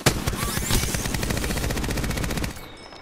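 Rapid automatic gunfire in a shooter video game, a loud, sustained burst of evenly spaced shots that rattles on for over two seconds, then cuts off, leaving a faint tail.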